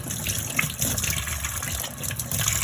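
Tap water runs steadily while fish are washed, a continuous splashing gush close by with no talk.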